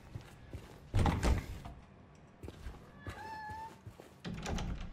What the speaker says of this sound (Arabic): صوت الباب من صوت قطة طلع مياو